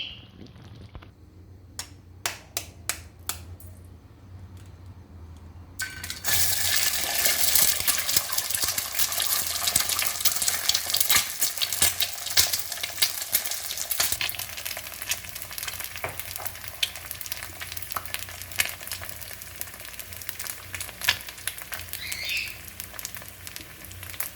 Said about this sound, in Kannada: ಇದು ನೀರು ಹಾಕಾದ್ಮೇಲೆ ನಾನು ಇದನ್ನೊಂದು 2 ಮಿನಿಟ್ಸ್ ಚೆನ್ನಾಗಿ ನಾನು ಇದನ್ನು ಕುದಿಸ್ತೀನಿ.